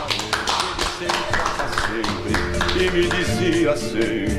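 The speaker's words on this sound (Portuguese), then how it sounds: "Uma salva de palmas para Olivério Bazzani Filho." A crowd gives a round of applause in honour of Olivério Bazzani Filho, with steady clapping running throughout while a voice talks over it.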